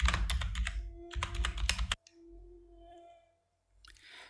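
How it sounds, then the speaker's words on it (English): Fingers tap rapidly on a computer keyboard in a quiet room, a close flurry of crisp keystrokes for about two seconds with a short pause, then near silence with faint tones and a light rustle. "hit F2 on the keyboard to rename and call it image or profile"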